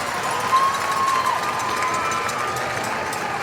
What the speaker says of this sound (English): You see the Marshfield crowd chants her name.